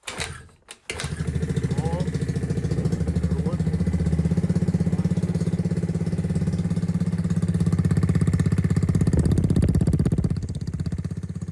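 Piaggio Fly 50 4T scooter with fresh oil and a cleaned filter is kick-started, catching after a brief crank and settling into a steady, close, buzzing idle that holds for several seconds.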